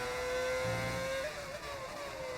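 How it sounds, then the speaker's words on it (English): A V8 racing car engine in an F1 video game at the Netherlands circuit, a steady loud high-pitched whine that rises in pitch and then eases off, heard alone with no talk. "we're using a V8 engine, which is obviously our mods"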